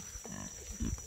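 Pigs near a cassava field give short, low grunts close by, a couple of brief bursts over faint outdoor background.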